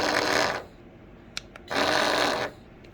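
Two bursts of buzzing vibration from a dog training collar, each lasting under a second, separated by a short quiet gap with a couple of faint clicks.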